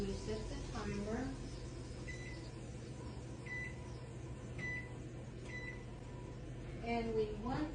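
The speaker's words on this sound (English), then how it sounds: "And we set the timer." A kitchen oven timer being set for a glazed pork roast gives a handful of short, evenly spaced electronic beeps, fairly faint over steady room hum, with brief speech at the start and end.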